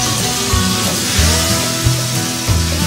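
Boiled meat frying in a pan with okra masala for bhindi gosht, a steady, loud sizzle and hiss throughout, with occasional low bumps from stirring.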